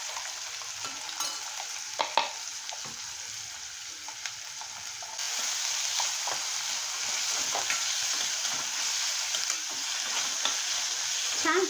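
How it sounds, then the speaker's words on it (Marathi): Three large onions frying in a pan, a soft sizzle that grows louder partway through as they are stirred, with scattered clinks and scrapes of the spoon and no talking. "आता ह्याच्यामध्ये आपण हे 3 मोठे कांदे ॲड करायचे आहेत"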